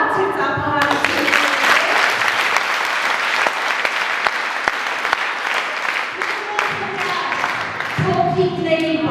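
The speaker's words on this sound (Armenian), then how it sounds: "մեր դահլիճի բարձր ծափահարություն" Sustained audience applause fills a school hall at a first-grade graduation ceremony, loud and dense for most of the span, with music audible at the start and end.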